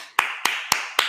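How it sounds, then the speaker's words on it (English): Four slow, evenly spaced hand claps ring out close and crisp after the speakers at a Harvard Business School Digital Initiative online panel on the future of money, with no voices underneath. "We'll get a little bit of live applause here."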